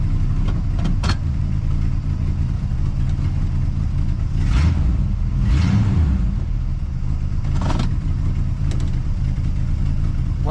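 A car engine with a small exhaust leak idles roughly and is revved a few times, a close, steady low rumble broken by brief rising surges and puffing bursts.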